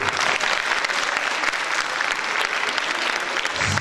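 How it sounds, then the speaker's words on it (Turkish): An audience at a Turkish official event, with a minister present, applauds the girls in steady, dense clapping that holds at full strength throughout. "Kızlarımıza özel bir alkış istiyorum."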